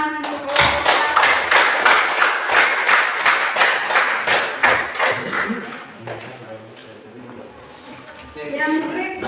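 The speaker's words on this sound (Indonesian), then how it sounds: "Tepuk tangan untuk kelompok" Applause for a presenting group in a classroom, a steady burst of clapping hands for about six seconds that then fades, with voices heard around it.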